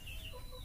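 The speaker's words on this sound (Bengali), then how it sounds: "এই সব ঝুড়িতে রয়েছে মুরগি, সব ঝুড়িতে মুরগির বাচ্চা রয়েছে" Desi chickens held in baskets at a village farm market give a brief, soft cluck amid a low background hum, close by and fairly faint.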